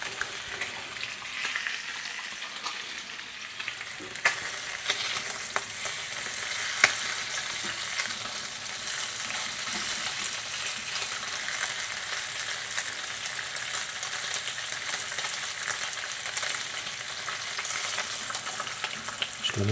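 Bacon and egg frying in a pan: a continuous, even sizzle and crackle with occasional sharper pops, close and steady throughout with no talking.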